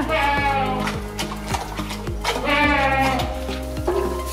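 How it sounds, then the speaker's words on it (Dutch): Goats on a Dutch farm bleat repeatedly while being fed, several overlapping calls rising and falling close by in a loud, busy chorus with no talk. "Kijk eens, geitjes."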